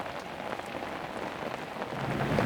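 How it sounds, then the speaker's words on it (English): Steady rain pours during a storm at sea aboard a sailboat, a dense, close hiss of drops drumming on the surfaces that swells slightly toward the end, with no voices. "It just seems to be raining, a little bit of wind, but nothing crazy."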